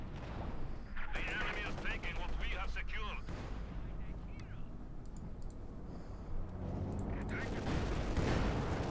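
Battle in Company of Heroes 2 with a Soviet T-34 tank and a field gun in action: dense, continuous gunfire and booming artillery blasts rattle throughout, with a voice talking over the clamor.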